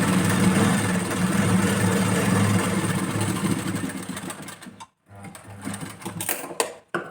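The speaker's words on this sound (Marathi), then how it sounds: "आता हा पट्टी जी आहे दुसऱ्या बाजूने करून पट्टीवरती एक स्टिच करून घ्यायची" A sewing machine stitching along a fabric strip on a blouse, running steadily and close for about five seconds, then stopping briefly before a few quieter, uneven stitches and handling clicks.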